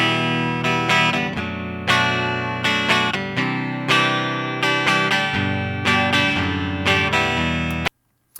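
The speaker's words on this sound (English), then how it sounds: "We'll start with the clean guitar part." Clean electric guitar strumming chords in a steady rhythm, each strum decaying before the next, ending in a short silence.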